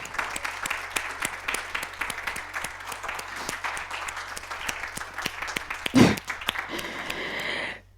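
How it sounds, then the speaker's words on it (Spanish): Sustained applause from an audience, dense and steady, swelling briefly near the end before fading out quickly. "quisiera dedicarle un aplauso porque la verdad es que se lo merece"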